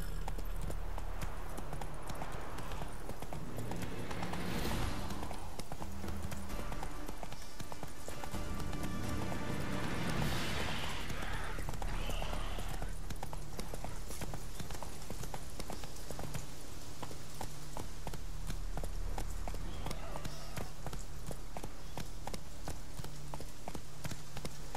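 Horse hooves galloping in The Witcher 3: Wild Hunt, a steady rapid clip-clop rhythm of a ridden horse running continuously, with faint game ambience and brief background voice sounds.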